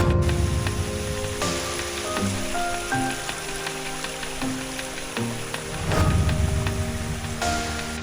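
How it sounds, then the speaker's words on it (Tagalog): Rain falling on a mountain trail during a hike: a steady hiss of rainfall and patter of drops continuing throughout, close and fairly loud, swelling slightly near the middle. "Ito na kami ng ulan guys."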